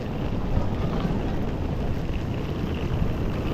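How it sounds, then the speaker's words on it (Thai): Steady rain falling outdoors on a misty morning in a hilly area of Korea, a dense, constant broadband hiss with low rumble, no distinct drops, close and even throughout. "ฝนตกครับ"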